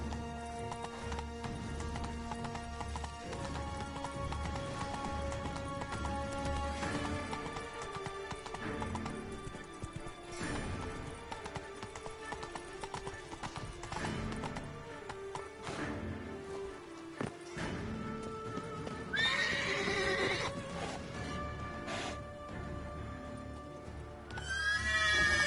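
Horse neighing and hooves clip-clopping at a gallop in a PS4 video game, with a game music score underneath and a loud whinny near the end.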